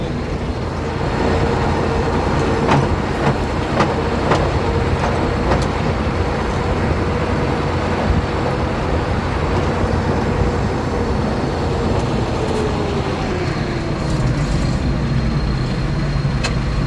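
A T-150K wheeled tractor drives back to base, its engine a steady loud rumble with a rising and falling drone and occasional rattles throughout, no voices.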